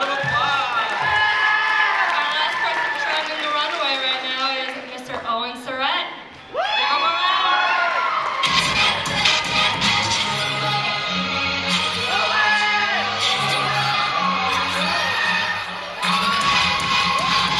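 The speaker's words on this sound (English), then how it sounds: "Give him a round of applause." Crowd at a high school Mr. & Miss pageant cheering and shouting for a contestant named Pat, a loud sustained roar of voices with whoops and children's shouts, with music coming in partway through.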